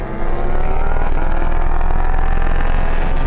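A KTM MotoGP race bike, a KTM Super Duke R Evo and a Porsche 911 Turbo accelerate hard together in a rolling drag race from 50 mph, producing a loud, dense, continuous engine roar with high revs throughout.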